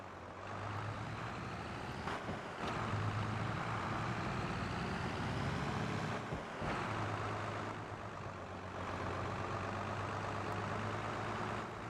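A tractor in a farming simulator game drones steadily with a low, continuous engine hum, faint and even, broken by a few soft clicks and brief dips.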